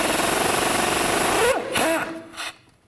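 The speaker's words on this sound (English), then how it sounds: "Use a 17mm socket, take this bolt out." A 17mm socket on a power tool loosens the rear shock bolt of a 2004-08 Nissan Maxima, a loud steady buzzing rattle for about a second and a half, then breaking into short bursts before fading out.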